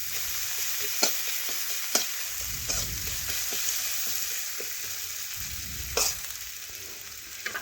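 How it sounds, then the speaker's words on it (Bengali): Chopped large onion sizzles steadily as it fries in oil for a hilsa fish dish, with a spoon clinking and scraping the pan at irregular intervals. "এখন আমি পেঁয়াজটা নাড়াচাড়া করে একটু লাল লাল করে ভেজে নিচ্ছি।"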